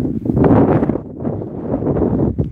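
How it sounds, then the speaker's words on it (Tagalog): Strong wind blows outdoors while strolling, buffeting the microphone in loud, low rumbling gusts that rise and fall over a few seconds with no voices. "super windy"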